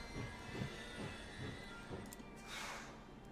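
A train in a video game rolls along rails at a faint, steady level, its wheels giving a rhythmic low thumping, with a brief airy hiss near the end.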